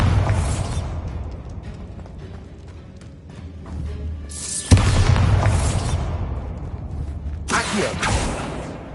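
The Bombarda blasting spell goes off in Hogwarts Legacy, and booming bursts land one after another. One sharp, loud blast stands out midway, with rumbling debris and a softer boom later.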